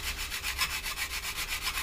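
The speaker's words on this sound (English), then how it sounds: "don't use a really abrasive file when sanding putty" Filler putty on a 1/48 Hasegawa Harrier GR7 plastic model being sanded with a medium-coarse file, a close, rhythmic back-and-forth rasping of about a dozen even strokes, alone without speech.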